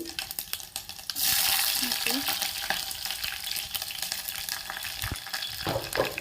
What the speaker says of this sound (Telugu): నూనె వేసేసి ఆవాలు వేయాలి, కొద్దిగా కరివేపాకు, పచ్చిమిర్చి,